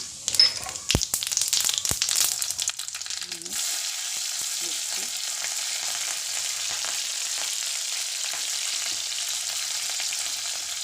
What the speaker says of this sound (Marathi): आता फोडणीला जिरे मोहरी